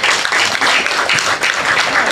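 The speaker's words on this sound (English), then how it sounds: "Clap it up for them." An open mic audience at a brew house gallery applauds, with dense, steady clapping from a crowd close by and a few voices mixed in.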